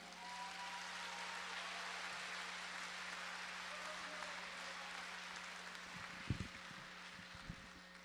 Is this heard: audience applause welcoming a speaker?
yes